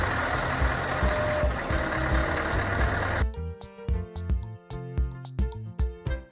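A truck engine rumbles steadily for about three seconds, then cuts off abruptly and is followed by clear tonal beeps and notes.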